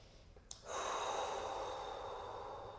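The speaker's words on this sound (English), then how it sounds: "let's go for 3 deep breaths" Deep, steady breathing during a full-body stretching session: a sharp inhale catch, then a long, loud airy exhale that slowly fades, close and alone with no talking.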